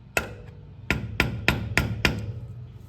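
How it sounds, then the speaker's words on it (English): A small screwdriver is driven against the locking tab on a wheel bearing nut of a Lexus LX470, giving six sharp metallic taps, loud and close, spaced roughly a third of a second apart after a single opening strike. "So we need to bend that back, and then we should be able to take that off. So let's take a little screwdriver here."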